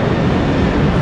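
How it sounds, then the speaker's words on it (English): An airplane passes outside near an airport in Guatemala City, a loud, continuous broadband roar that fills the whole short stretch without a break. "you can hear the plane outside because we're by the airport"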